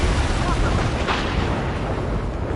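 A missile launches during an Ace Combat 7 jet dogfight, a loud rushing roar over dense engine and combat noise that builds briefly around the middle.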